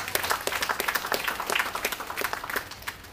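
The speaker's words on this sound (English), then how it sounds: "Let's give them a round of applause." Audience applause at a UNESCO slavery exhibition event, a modest crowd clapping with distinct individual claps audible, moderately loud and sustained for several seconds.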